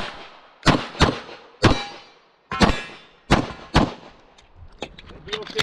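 Pistol shots crack out at a USPSA shooting match stage outdoors, about seven loud, sharp reports in an uneven rhythm with short decaying echoes, followed by fainter clicks and handling noise.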